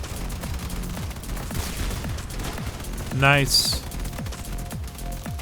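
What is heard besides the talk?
autocannon firing in video game Crossout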